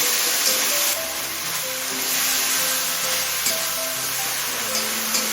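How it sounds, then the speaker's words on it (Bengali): Ginger-garlic paste sautés in a pan for a katla fish head and cabbage dish, giving a steady loud sizzle with faint stirring underneath and a soft tonal hum running through it. "কাঁচা গন্ধ চলে যাওয়া পর্যন্ত কষিয়ে নেব"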